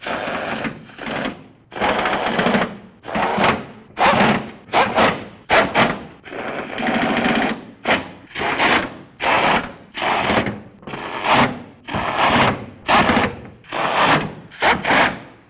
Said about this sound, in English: Now that we have them all started in, let's go ahead and snug them up.